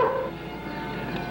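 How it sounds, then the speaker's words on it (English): A hunting dog gives a short bark as a radio drama sound effect, one brief yelp at the start followed by a fading low rumble of background. "The other man had a hunting dog."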